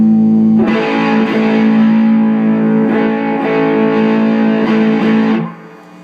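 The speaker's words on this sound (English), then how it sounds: "open my guitar wide open, which hits these with more signal, so my distortion level is higher" A heavily distorted electric guitar, volume fully open into two Tube Screamer pedals, rings out in sustained, thick chords with several re-strikes, loud and saturated, then cuts off abruptly near the end.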